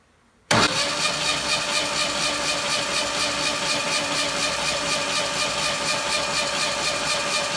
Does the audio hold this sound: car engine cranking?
yes